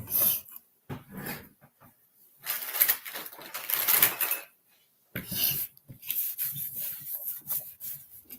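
A baby wipe rubbed over a craft art piece in close, intermittent bursts of soft scrubbing and swishing, with short pauses between strokes and no talking.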